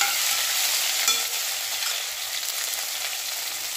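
Cumin, mustard seeds and garlic-ginger paste sizzling in hot oil, a loud, steady hiss of frying with a brief stirring scrape near the start.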